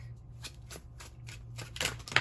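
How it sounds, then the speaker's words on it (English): Repeated riffling bursts of tarot cards being shuffled, crisp papery flutters at a steady pace, louder toward the end, with no voices. "I'm going to go ahead and shuffle up the tarot cards really quick."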